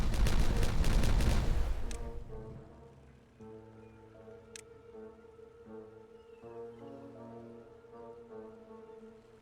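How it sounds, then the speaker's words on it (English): Explosives detonating in the beaver colony-building game Timberborn: a dense, crackling cluster of blasts for about two seconds, then fading into calm tonal background music with a single faint click. "let's detonate all that"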